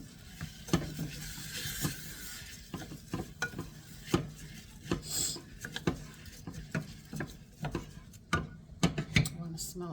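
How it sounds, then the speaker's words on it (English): Rice is stirred into seasoned butter or oil in a pot for homemade jasmine rice: a spoon scrapes and rasps in repeated, uneven strokes over a soft sizzle, close up. "you're going to stir the rice into it"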